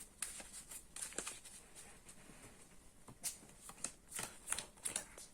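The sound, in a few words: shuffling Yu-Gi-Oh trading cards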